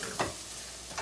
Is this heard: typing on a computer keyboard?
no